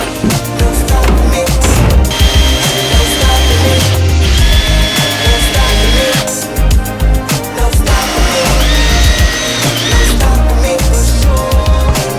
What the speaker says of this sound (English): drilling out the holes like that actually worked like brilliantly